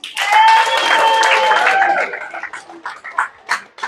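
A comedy club audience answers with loud whoops and cheers that give way to scattered, uneven hand claps fading out over a few seconds.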